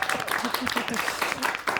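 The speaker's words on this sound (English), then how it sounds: "get a round of applause for that." Comedy show audience breaking into a short burst of applause, dense clapping close and lively under a voice.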